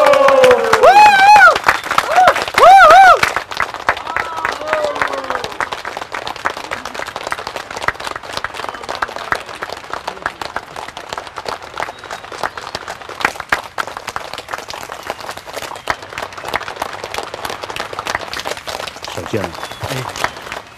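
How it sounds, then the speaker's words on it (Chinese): Wedding guests break into applause as the bride arrives, a burst of clapping that follows an announcer's loud voice and carries on unevenly across the room, with scattered claps and voices to the end. "鼓掌！"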